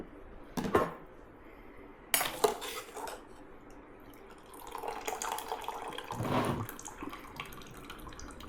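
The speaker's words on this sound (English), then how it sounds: "I am transferring all of the veggies from the boiling water into my blender." Boiled vegetables being scooped from a pot of water into a blender, with loud clanking of a metal utensil against the pot, scraping, and splashing water in several bursts, close by.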